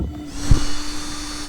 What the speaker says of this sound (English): this was the largest drill bit I had on hand